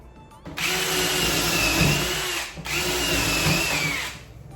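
A power drill bores holes in timber in two loud, close bursts of whining motor and grinding wood, separated by a short pause, without any talk.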